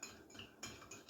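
A spoon stirs a mocha in a big cup, giving a few close, bright metallic clinks and scrapes against the sides in quick succession, alone without talk.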